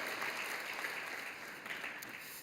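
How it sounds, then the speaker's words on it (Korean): Applause from a church congregation during a Christmas Sunday service, a steady dense clatter of many hands held at even loudness throughout, with no talk over it. "여러분께 박수로 환영하시죠."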